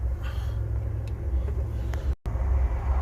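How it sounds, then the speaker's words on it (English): Wheel spinning on a raised car with a suspected faulty ABS sensor, a steady low mechanical rumble and whir running continuously, close by, with a brief dropout partway through. "so we've got the other wheel spinning"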